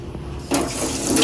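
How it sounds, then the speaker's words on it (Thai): Three tomatoes are rinsed under a running tap, with a steady broadband rush of water that swells after a brief quieter start, close up and without speech. "มะเขือเทศสามลูกล้างก่อน"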